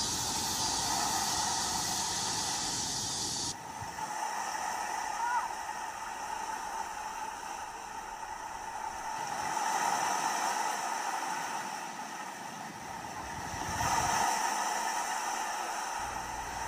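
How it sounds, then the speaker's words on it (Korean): Ocean waves washing onto the beach at Samcheok, a steady broadband rush with slow swells that rise and fall every few seconds, moderately loud and heard alone. "파도 소리를 들으며 걷는 즐거움을"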